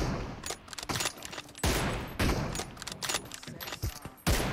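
An M4 rifle in PUBG Mobile fires in several short, sharp bursts separated by brief gaps, close and loud.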